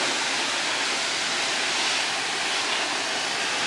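A coin-op car wash pressure hose rinsing a car, a steady, dense rushing spray of water heard close and continuous with no pauses.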